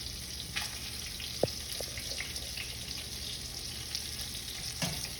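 Panko-coated chicken nuggets fry in hot oil with a steady, dense sizzle. A few brief clinks and knocks cut through near the start and the end, and there is no talking.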